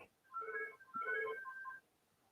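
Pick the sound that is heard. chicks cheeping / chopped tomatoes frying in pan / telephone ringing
telephone ringing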